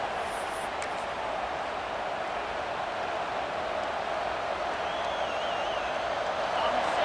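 Stadium crowd in EA Sports College Football 26 roaring steadily before a fourth-down play, a dense, constant wash of cheering with no clear breaks.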